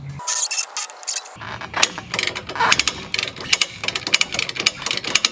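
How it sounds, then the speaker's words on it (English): A ratchet pulley lever is cranked to raise the carriage of a motorcycle tow dolly, producing a run of close, rapid metallic clicks and clunks that continue steadily with no talk. "Then put on my little lever here for my pulley. Start cranking up the little carriage part down there."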